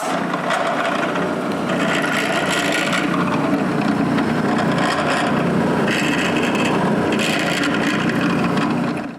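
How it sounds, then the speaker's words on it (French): A small drill bit passes edge to edge through the centre of wooden circles cut for a cryptex, a close, continuous rasping grind in wood lasting about nine seconds with slight surges, no speech. "je perce un petit trou de bord en bord au centre de chacun des cercles"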